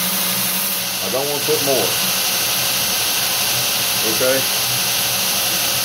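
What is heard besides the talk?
belt grinder grinding with light pressure on a jig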